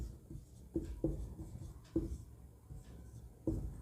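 Chalk or marker strokes on a board write a Sanskrit word in a quiet room, a series of soft tapping and scratching strokes with sharp little knocks as each letter starts, close and fairly faint with no talking.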